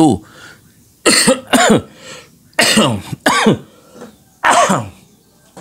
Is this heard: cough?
yes